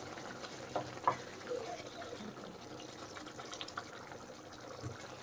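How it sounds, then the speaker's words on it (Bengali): Water is poured into a mushroom and capsicum masala gravy in a pan, giving a faint, soft liquid trickle and splash, with quiet background sound. "পরিমাণ মতো জল দিয়ে দিলাম, বেশি জল দেওয়ার দরকার নেই।"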